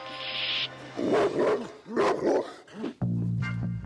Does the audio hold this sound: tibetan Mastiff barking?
yes